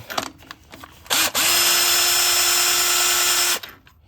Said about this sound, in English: It's just a regular drill with a 3/8 adapter to it.